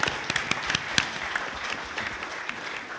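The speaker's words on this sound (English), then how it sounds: "So round of applause for you guys." An audience at a San Diego Comic-Con panel on Tomb Raider applauds, a dense wash of clapping from a large crowd in a hall, steady and moderately loud throughout.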